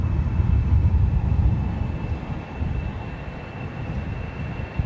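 Low, steady rumble of a jet airliner at Heathrow Airport in a very strong headwind, heard from a distance with broadband roar and wind buffeting, no talk.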